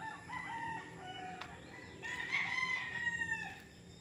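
Roosters crow on a farm where gamecocks are trained, calls rising over a steady background hum, one clear crow peaking mid-clip before fading, no talk.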